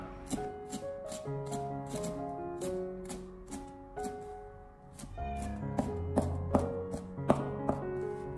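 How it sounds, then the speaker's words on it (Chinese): A knife chops a rinsed sprig of fresh cilantro, its root end trimmed off, into short segments on a board, producing steady, crisp taps in a regular rhythm over soft background music. "紧接着再准备一根香菜，清洗干净以后将头部给它去掉不要，然后再改刀切成小段。"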